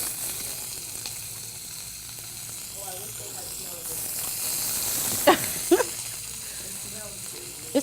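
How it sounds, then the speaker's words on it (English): Onions and peppers sizzling in hot oil in a pan, a soft steady hiss at low volume with a few sharper pops and clinks of utensils toward the end. "So we're gonna go ahead and drop our onions in the pan. You hear that sizzle?"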